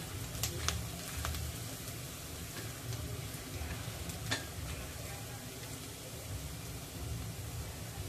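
Onion and garlic fry in oil over a medium gas flame for a spicy shev bhaji, a faint steady sizzle with a few sharp ticks and crackles, no talk.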